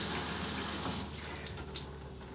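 An RV faucet pours a steady stream of water down the drain and through the P-trap during winterizing, a continuous close hiss and splash with a couple of faint clicks near the end.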